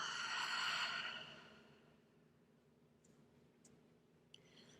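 A slow, gentle exhale during yoga breathing, a soft airy breath-out that swells near the start and fades within a couple of seconds, followed by quiet room tone with a few faint ticks.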